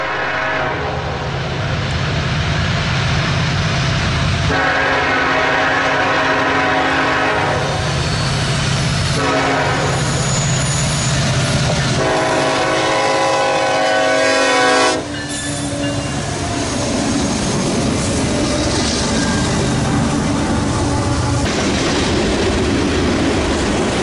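A Norfolk Southern freight train led by locomotive 1072 roars loudly through a road crossing at Bleeker, its horn blaring in long blasts over rumbling, clattering wheels and a brief squeal, with no voices.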